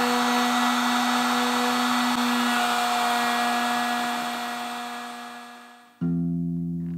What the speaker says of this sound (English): I'm now going to run them through the router.